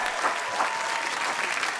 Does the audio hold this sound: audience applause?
yes